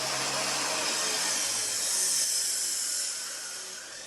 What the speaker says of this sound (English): Now I'll cut the legs out of that same 3/4 inch square tubing.